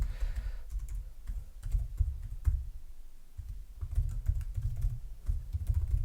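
Keys clatter on a computer keyboard in close, uneven bursts of typing with short pauses, over a low background hum.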